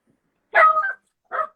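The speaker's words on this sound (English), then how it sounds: "That's my dog." A dog gives two short barks close by, the first longer with a yelping edge and the second brief, with silence between them.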